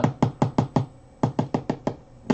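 Rapid sharp taps in two quick bursts of five or six, close and crisp, with a short pause between, as a bird's beak pecks firmly at nest fibers.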